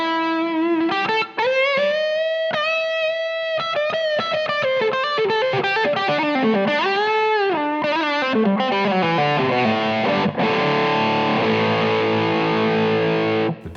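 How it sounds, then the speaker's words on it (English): An electric guitar played through a Marshall amp with a distortion setting and shaped EQ, giving a bluesy lead line of bent sustained notes and vibrato that ends in a ringing held chord, played alone. "The extra blues is basically just distortion with an EQ that I happen to enjoy."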